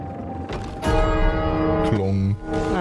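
A single phone ring sounds in the video game It Takes Two, a loud, resonant bell-like electronic tone that holds and shifts pitch over about two seconds, with faint game background beneath.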